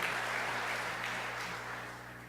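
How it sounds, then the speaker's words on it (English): A school audience at Montgomery Bell Academy in Nashville applauds a speaker, a steady wash of clapping that slowly fades, moderately distant. "That got a round of applause."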